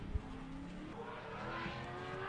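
A Subaru BRZ drift car accelerates at a drift competition, engine note rising steadily from a moderate distance under crowd and track ambience.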